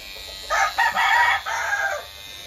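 A rooster being groomed crows and clucks in a few loud, close, harmonic bursts lasting about a second and a half, with no talking.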